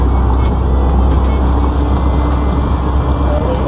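Riding inside a gas-fuelled Bajaj auto rickshaw through a crowded residential area of West Jakarta: a loud, steady engine drone and road rumble, continuous and close, with no clear talking.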